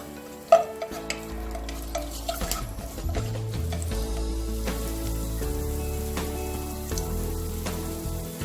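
Ginger and sliced garlic sizzle in sesame oil for a Chinese chicken chilli, a sharp clatter at the start giving way to steady frying with occasional stirring scrapes, close and moderately loud.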